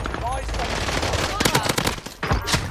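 MP40 submachine gun fire in Vanguard Warzone on Rebirth Island, coming as loud rapid bursts that pile up in the second half over steady game noise.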